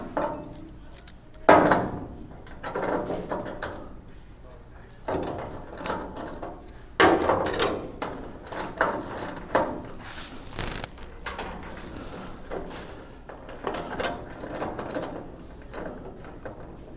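A patch panel clamp being screwed down on the roof of a 1967-72 Chevy or GMC truck, heard as close, irregular metallic ratcheting and clicking with occasional sharper clanks, no voices.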